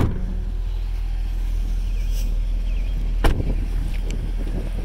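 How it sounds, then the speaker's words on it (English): A 2008 Chevrolet Corvette 3LT with 7,500 miles idles steadily at low pitch, a constant deep engine drone with wind buffeting the microphone and one brief sharp click partway through. "Take one last walk around this vehicle while it runs so you can check everything out."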